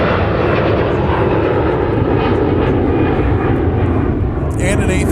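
A Boeing 717 airliner lands at Minneapolis–Saint Paul airport, its engines a loud, steady, broadband roar that holds without a break for the whole stretch.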